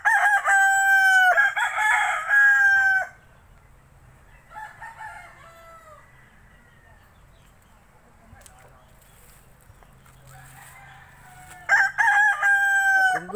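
A white rooster on a farm in Bonbon, Oslob, Cebu crows loudly twice, once at the start and again near the end, each call a long strained cock-a-doodle-doo, with quieter clucking and faint background sounds in between.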